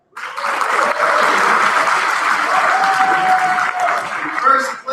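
An audience at a Sunday night awards ceremony claps for the second-place team, Whitman, with loud sustained applause that starts abruptly and holds steady while voices talk over it.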